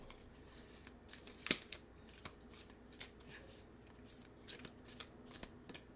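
Alchemy cards are shuffled by hand close up, producing soft, repeated riffling and slapping bursts at an uneven pace, fairly quiet throughout.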